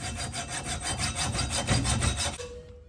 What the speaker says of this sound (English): I think I grabbed the wrong hacksaw because this thing sucks